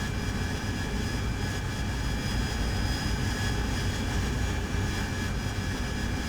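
A Harrier's AV-8B jet engine roars steadily in the DCS flight sim, a continuous loud whine and rumble with no talk over it.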